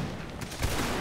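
Musket volley fire in Mount & Blade Warband: Napoleonic Wars, a crackling rattle of many shots spread over a moment, fairly distant and blurred together.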